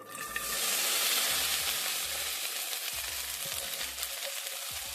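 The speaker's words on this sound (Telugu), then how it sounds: "వీటిని ఒక టూ మినిట్స్ పాటు మనము ఫ్రై చేసుకోవాలి" Okra pieces fry in hot oil for a curry, a loud steady sizzle that swells after they drop into the pan, with soft stirring scrapes recurring throughout.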